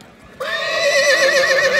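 At the Pokrovka livestock market a horse lets out one loud, close whinny. It starts abruptly after a brief quiet moment and holds as a long wavering neigh to the end.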